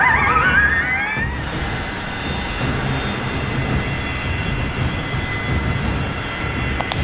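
A Qatar Airways Airbus A350 taking off alongside an ABB FIA Formula E race car on a runway: a rising electric whine at first, then a loud, steady jet roar with thin high tones.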